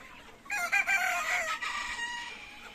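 Sonali chickens on a poultry farm, clucking and calling in a close, busy burst of bird sounds that starts after a quiet moment and then tails off into a softer murmur.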